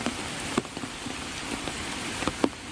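Continuous downpour with a broad, steady hiss, punctuated by a few distinct nearby splats and taps.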